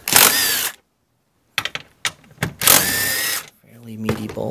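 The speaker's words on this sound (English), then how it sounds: "So go ahead and take these four bolts out." A power tool zips 14 mm bolts out of the rear seat of a second-generation Prius, with loud whirring bursts separated by pauses and clicks, and a short low hum at the end.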